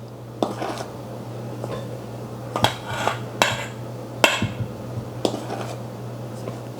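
A half-cup measure scooping flour into a bowl for bread dough: a series of sharp clinks and knocks of the cup against the bowl at irregular intervals, close and fairly loud over a steady low hum.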